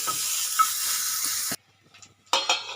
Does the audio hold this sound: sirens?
no